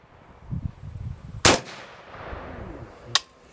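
A .450 Bushmaster rifle fires a 34.5-grain AA1680 handload: one loud, sharp report with a brief rumbling tail, then a second crisp crack about two seconds later over a quiet outdoor background.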